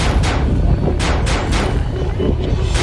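Gunfire from Hamas fighters' attack on Israeli civilians: loud, dense bursts of shots and heavy booms crowd together, with a voice talking over them.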